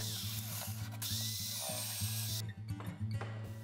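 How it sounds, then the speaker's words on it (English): A power drill whirs in rapid, regular pulses close by, drilling holes in camera stand parts, with a high whine and a brief grinding burst before it eases off. "I drill holes in these other parts, through which the aluminum pipe will slide."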